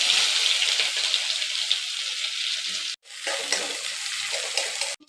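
Onions and curry leaves sauté in hot oil with cumin and mustard seeds, a steady close crackling sizzle broken by brief pauses as the pan is stirred, no voices.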